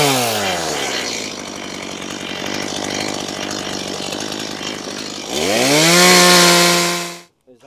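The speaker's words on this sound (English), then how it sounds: "I'm going to cut that off and then John's going to screw through there." A power saw cuts through timber during garden room base and wall construction, a loud sustained whine that grinds steadily, then rises sharply in pitch as it spins free near the end before cutting off abruptly.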